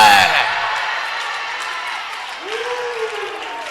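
A church congregation applauds and cheers, a dense wash of clapping and crowd noise that starts loud and slowly fades over a few seconds, with a voice rising over it partway through.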